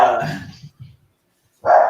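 A dog barks twice in short bursts, close and fairly loud, separated by a brief quiet pause.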